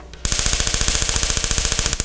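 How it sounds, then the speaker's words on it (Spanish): High-voltage sparks jump from a COP (coil-on-plug) ignition coil under test, a rapid string of sharp crackling snaps at an even fast rhythm, loud and close, starting abruptly after a brief hum. "Aquí está saltando la chispa, es una chispa de alto voltaje."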